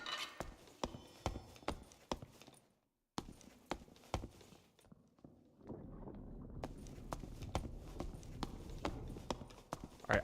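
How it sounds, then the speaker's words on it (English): Footsteps in the dungeon game Dark and Darker, a steady run of sharp, evenly spaced steps on a hard floor, loud and close, with a brief silent gap and a rising rumble of ambience later on. "I think I hear footsteps."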